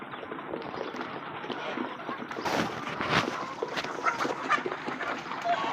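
Dense, busy clatter of many Kaveri-breed chickens pecking and scratching at feed, with soft clucking mixed in, fairly close and continuous.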